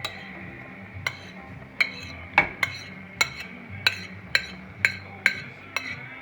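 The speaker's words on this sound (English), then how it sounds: "We'll give it another little stir" Diced tomatoes being stirred into a pot of green chili, a utensil clinking against the pot rim about a dozen times in a steady rhythm over a soft low background, close and distinct.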